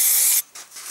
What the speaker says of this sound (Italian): spruzziamola con della colla spray